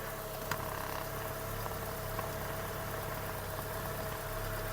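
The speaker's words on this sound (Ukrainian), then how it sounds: "Мотор працює тихо, рівно, зауважень немає." A car engine idles quietly and evenly, a low steady hum throughout with no voices.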